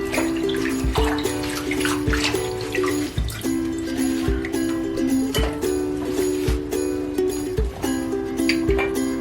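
Radish leaves are washed in water, heard as steady splashing and sloshing with scattered drips under continuous background music.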